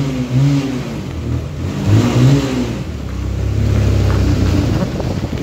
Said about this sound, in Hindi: टनल में तो ऐसा लगता है कि एग्जॉस्ट लगा रखा है तगड़ा वाला, इतनी भयानक साउंड निकलती है इसमें से।